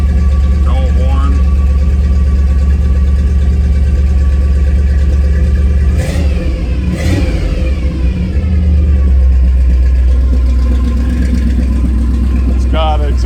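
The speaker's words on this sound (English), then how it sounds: "It's got exhaust, it just pumps out right to the side there, so it's pretty loud." A 1957 Ford F100 pickup engine idles with a deep, throbbing exhaust rumble from a side exit, briefly revving a couple of times before settling back to a steady idle.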